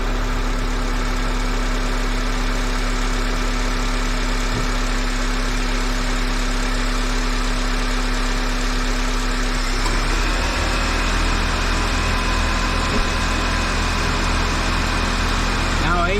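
A 2004 Honda Accord EX with a 2.4 L engine idles steadily and loudly up close, with a constant hum. Partway through, the engine's tone shifts as an added load kicks in.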